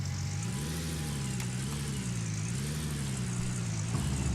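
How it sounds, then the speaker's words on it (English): Truck engine in the Gold Rush mining game, a steady mid-pitched drone whose tone rises and falls gently as the vehicle drives, close and continuous with no talk. "I'm going to get the truck and bring it over here and we'll fill everything up."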